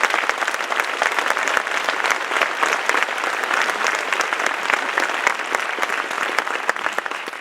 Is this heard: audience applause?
yes